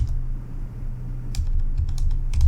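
JavaScript code being typed on a computer keyboard, with light rapid key clicks in uneven bursts over a steady low hum, close and alone with no talk.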